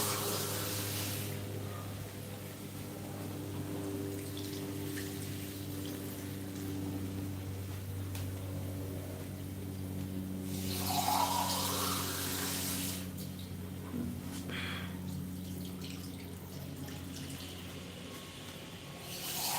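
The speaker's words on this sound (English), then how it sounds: "So now you'll be adding water." Water poured into a pan of green peas curry with coconut cream, a steady pouring and splashing wash that swells in a couple of bursts over a low constant background hum.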